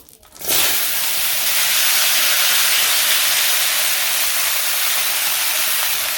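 Sizzling hot oil sharply flares up after a brief quiet moment, then stays a loud, steady crackling hiss as vegetables fry close by.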